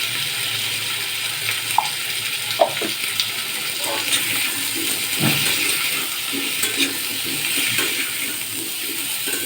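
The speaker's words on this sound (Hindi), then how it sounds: "हल्के से फ्राई कर लेता हूँ।" Eggplant and potatoes fry in a pan for a besar-style curry, a steady close sizzle and crackle with occasional scraping and stirring clicks running throughout.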